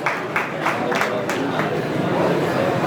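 Audience applause at a community gathering, a Vishwakarma Dodiya family reunion in Chotila, with rhythmic clapping bursts building into steady crowd clapping and murmur under a loud mix.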